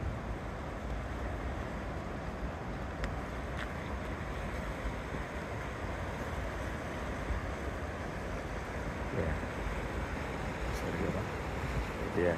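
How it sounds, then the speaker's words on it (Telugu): Water from Yosemite Falls rushing steadily down a creek at Yosemite National Park, a broad continuous wash with a little wind noise, loud and close with no talking. "ఆ ఫాల్స్ దగ్గర నుంచి వస్తున్న వాటర్ అంతా కిందకు వచ్చి ఇక్కడ ఇలా క్రీక్లో ఫ్లో అయ్యి ముందు రివర్కి వెళ్తుంది."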